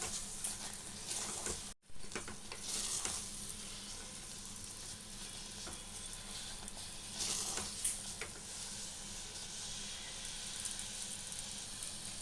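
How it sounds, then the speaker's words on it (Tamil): Sakkarai pongal being stirred with ghee in a pan gives a steady, soft sizzle and scraping throughout, with a brief dropout near the start and a few louder stirring scrapes, no talking. "எல்லாத்தையும் நல்லா மிக்ஸ் பண்ணிடுங்க."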